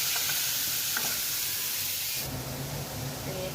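Ginger-garlic paste and onion-tomato puree fry in a pan with a continuous close sizzle and hiss that grows louder and brighter partway through, with no talk over it.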